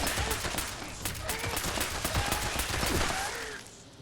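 Rapid automatic gunfire from a weapon in the video game Fallout 76, a dense burst of repeated shots lasting a few seconds before tapering off, loud and without speech over it.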